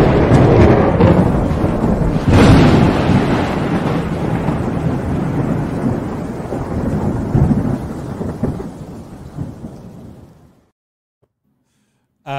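A thunder sound effect rolls in loud and close with a heavy crack early on, then long rumbling and rain-like hiss that fades out to silence near the end.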